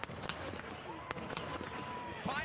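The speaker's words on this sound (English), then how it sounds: "Fireworks here at Floyd Stadium." Fireworks crackle and pop at a college football stadium after a rivalry game, with several sharp bursts spread across a few seconds over a crowd's roar and a faint whistle near the end.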